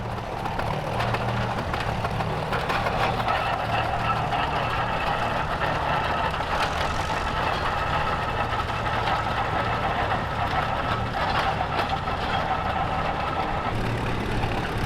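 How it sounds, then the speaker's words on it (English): An old Titan tractor engine runs steadily and loudly throughout at a steam and gas threshing show, a continuous rough chugging rumble with no pauses. "Gene Williams on a Titan tractor, part of the Williams collection."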